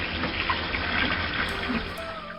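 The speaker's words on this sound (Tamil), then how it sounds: "கமலேசன் தண்ணீர் பிடித்து கொடுக்க உதவுகிறார்." Steady broadband rush of water pouring from a tap, continuous and fairly close, with no voices.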